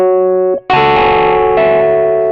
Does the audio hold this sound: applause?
no